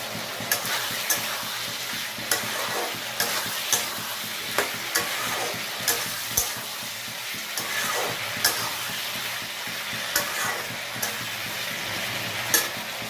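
Potato and papaya curry sautés in oil in a pan, a steady sizzle broken by regular stirring scrapes every second or so, with no voices.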